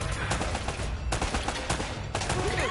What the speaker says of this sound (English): Oh, he had a shotgun.